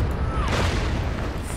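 A single deep artillery boom from the strategy wargame Order of Battle, set on the Burma Road near the Irrawaddy River, rolls out with a low rumbling tail over a brief moment.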